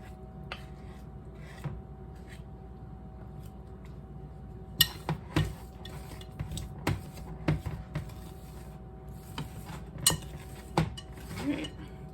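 A butter knife scraping sticky sugar cookie dough off a metal spoon, with quiet scraping and then repeated metallic clinks and taps at close range, no voices.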